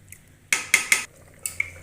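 A metal spoon clanks and scrapes a few times against a pot while chicken, potatoes and carrots roast, three sharp knocks followed by two lighter ones over a faint background.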